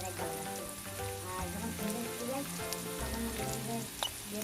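Onions and green chilies frying over medium heat with dried chili powder stirred in for a shrimp bhuna, giving a soft continuous sizzle under background music.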